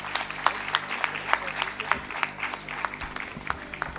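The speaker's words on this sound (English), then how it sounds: "A huge round of applause for our chief guest," An audience at an international seminar claps for the chief guest, Dr. Shashi Tharoor, in a steady, sustained round of applause with sharp individual claps standing out, filling the hall throughout.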